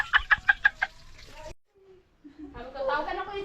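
Chickens cluck in a quick run of five sharp, close calls, followed by a pause and then a voice speaking.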